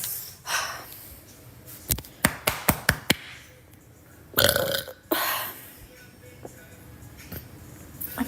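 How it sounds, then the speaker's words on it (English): A woman lets out a loud, deep burp after drinking lots of carbonated drinks, preceded by a quick series of light taps and followed by softer breathy sounds. "That was a solid burp."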